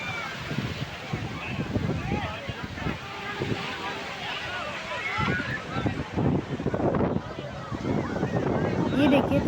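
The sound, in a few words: strong sea waves at Puri beach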